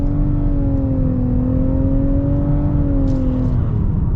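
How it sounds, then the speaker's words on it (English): The turbocharged engine of a 2023 Nissan Rogue SL AWD accelerates with a steady, rising whir and drone heard from inside the cabin. The pitch holds fairly even as the CVT keeps the revs up. "we are going to be getting our acceleration here with this Turbo Rogue."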